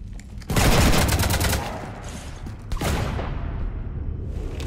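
Automatic gunfire rakes a ship in the sci-fi game Mass Effect 3. Loud rapid bursts hammer in for about two seconds, then a second volley cuts in and trails into sustained, rattling fire.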